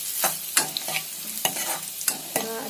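Ingredients for pakoda kadhi, with garlic, stirred as they fry in a pan: a sizzling bed broken by several scraping stirs at irregular intervals, close and clear, with no voices.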